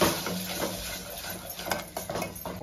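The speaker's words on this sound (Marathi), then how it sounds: "हे वाटलेलं वाटण. हे चांगलं परतून घ्यायचं." Ground masala paste stirred and sautéed in a pan for a Sunday mutton dish, a soft continuous scraping and sizzle with a few spoon knocks, close but fairly quiet.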